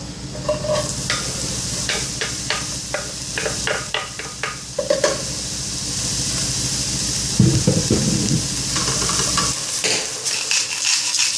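Onion and garlic frying in a pan, a steady hiss broken by repeated scraping and stirring clinks near the listener, with a louder burst of sizzle near the end and no talk.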